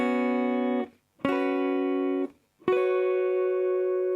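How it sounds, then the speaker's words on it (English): Three sustained guitar sus2 triads strum one after another, each ringing for about a second before a brief silence, clean, bright and close, with no voices. "and you'll get a sus2 triad, which sounds like this."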